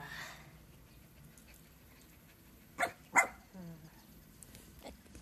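A dog in a small home garden in Murayama City gives two short, sharp barks close together midway, heard at a moderate distance over a quiet outdoor background.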